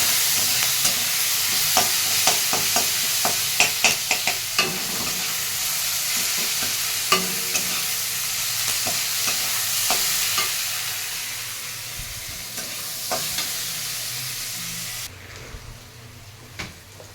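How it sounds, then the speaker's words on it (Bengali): Young jackfruit and prawns stirred in a hot pan, a loud steady sizzle with frequent spatula scrapes and clanks that thin out, then a sudden drop to quiet near the end. "নাড়িয়ে চাড়িয়ে নেব।"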